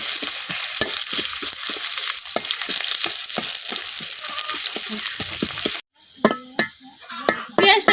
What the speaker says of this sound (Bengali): পেঁয়াজটা কিছুক্ষণ বাজে লইয়াম